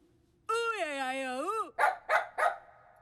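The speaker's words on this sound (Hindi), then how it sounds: "फिर ये कुत्ता भौंकता है" A dog barks in a Hindi comedy film scene: one long drawn-out howl-like whine, then three sharp, loud barks in quick succession, close and clear.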